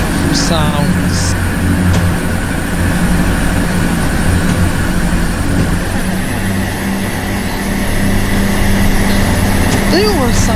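Diesel engine of a Networker train in Train Sim, a steady low drone with layered engine harmonics running continuously near and loud, with voices talking over it.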